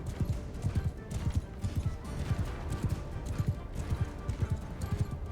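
Horse hooves clip-clopping in Mount & Blade II Bannerlord, a quick, steady rhythm of close, distinct hoofbeats without pause, with no talk over them.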